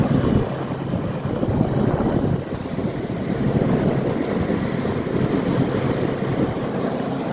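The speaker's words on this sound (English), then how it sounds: "You can hear the compressor running. It's a rotary." The rotary compressor of an Amana 9,000 BTU PTAC heat pump runs in heat mode, heard from the outdoor side as a continuous airy hum and whoosh with a brief dip partway through.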